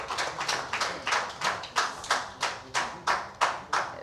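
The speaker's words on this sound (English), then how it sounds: "Maybe we can give him a round of applause." At a breakout session on the built environment, a small audience claps at a steady, fairly quick rhythm. The claps are moderately loud and fairly near, with no voices heard.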